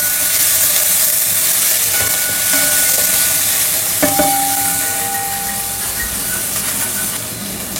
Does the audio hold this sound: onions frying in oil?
yes